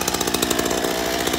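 A chainsaw runs continuously at close range, a loud, steady buzzing roar with a rapid pulsing chatter throughout.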